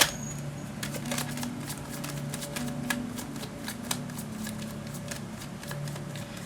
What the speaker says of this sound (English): you can see that I have been shuffling